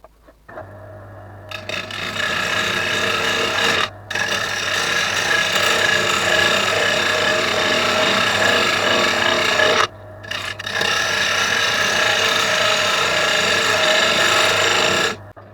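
A wood lathe turns an oak platter as the tool cuts and throws shavings, making a loud, steady rasping scrape that stops briefly twice before resuming.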